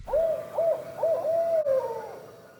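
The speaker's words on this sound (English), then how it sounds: "that is the noise that young barred owls make" A young barred owl calls in a series of rising, wavering screechy hoots, three short notes followed by a longer drawn-out one and a final trailing call, clear and fairly close.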